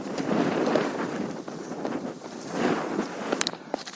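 Strong wind buffeting the microphone on an exposed hiking trail: loud, roaring gusts rise and fall in uneven surges, close and rumbling, with no voices.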